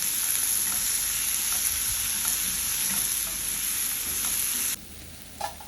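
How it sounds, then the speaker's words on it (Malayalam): Tomatoes sautéed and stirred in a pan for a restaurant-style Chettinad chicken curry, giving a steady, close sizzle with a bright hiss that drops sharply near the end, leaving a quieter pan with a faint scrape. "തക്കാളി ആഡ് ചെയ്ത് കഴിഞ്ഞിട്ട് വീണ്ടും സോട്ട് ചെയ്യുക തക്കാളി സോഫ്റ്റ് ആവുന്ന വരെ നല്ല മഷി ആവുന്ന വരെ അത് സോട്ട് ചെയ്യുക"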